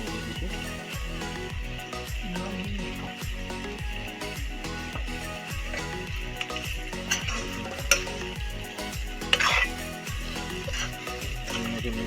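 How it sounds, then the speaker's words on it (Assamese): Potatoes being stirred into a sizzling chicken curry in a pan: a steady frying hiss under rhythmic scraping of a spoon against the pot, with a few sharper clinks of metal along the way. "ধুনীয়াকৈ মিক্স কৰি দিওঁ আলুখিনি"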